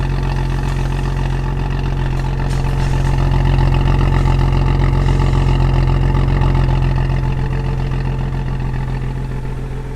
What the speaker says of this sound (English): Warm idle.